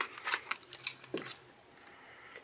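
Scissors snip and crunch through stiff plastic packaging for a Nintendo 3DS Super Mario accessory kit, giving a quick run of close, sharp cuts that fade into quieter rustling.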